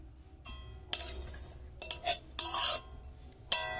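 A utensil stirs and scrapes coconut filling in a pan on a gas stove, giving several sharp clinks and scraping strokes at close range, with no talk.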